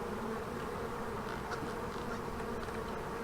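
Honey bees swarm around an old hive, a dense, steady buzzing drone that stays close and constant throughout, with no voices.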